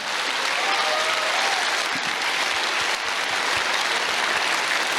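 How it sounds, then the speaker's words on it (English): Loud, sustained applause from a large audience at the NordicFuzzCon 2024 opening ceremony for the registration team, a continuous dense roar of clapping with a few scattered cheers. "So a big applause for the registration team."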